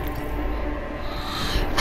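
A single short sneeze, close and fairly loud, bursting out at the end of a brief stretch of background noise.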